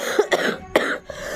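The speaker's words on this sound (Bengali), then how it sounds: "এত ঠান্ডা লেগে আছে, কাশি বুকে দম দম করছে সবসময়" A person with a chest cold and phlegm coughs three or four times in close succession, loud and near, with a harsh throaty texture and no talk.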